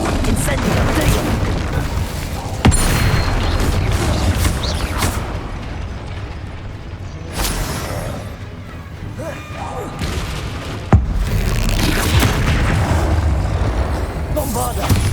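Bombarda blasting spell going off repeatedly in Hogwarts Legacy combat, loud booming impacts with sharp cracks around three and eleven seconds amid dense crashing battle noise, a voice speaking over it.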